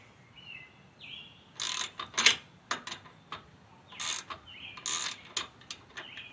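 A Fulton trailer winch handle nut being worked: faint irregular ratcheting clicks and metallic clacks in short bursts against a quiet background, with some faint chirps.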